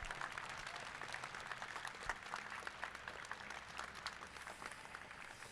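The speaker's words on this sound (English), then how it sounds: "If we could just please give all our sponsors a big round of applause." A continuous round of applause from the crowd at a FIRST Tech Challenge robotics state championship in Texas, sounding steady and fairly distant across the whole stretch with no voices over it.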